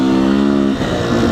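A 2019 Beta 125 RR S two-stroke dirt bike engine buzzes close and loud with a steady high-pitched rev, briefly dipping before picking back up, with no talking.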